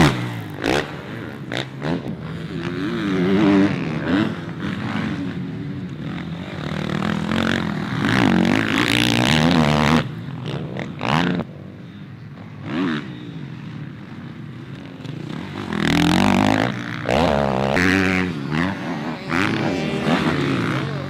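A 2019 Suzuki RM-Z450 motocross bike ridden on a dirt track, its loud four-stroke engine revving up and down through gear changes, rising and fading as it passes, with no talking.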